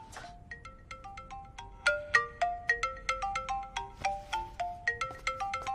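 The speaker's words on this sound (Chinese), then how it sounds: "我先去接个电话。" A melodic phone ringtone plays a quick, bright sequence of electronic notes in a repeating bouncy pattern, starting softly and growing louder, close and clear with no talk.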